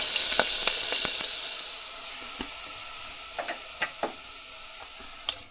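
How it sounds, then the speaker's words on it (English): Steady frying sizzle of minced steak in an electric ramen cooker, hissing and crackling close by, with scattered small pops and ticks as the meat cooks; no voices. "Oh, it's starting to fry. Can you hear that sizzle?"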